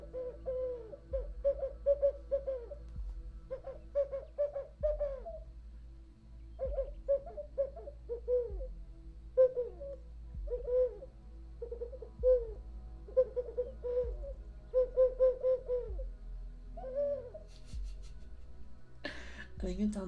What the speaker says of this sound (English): All I have right now is the bird noise.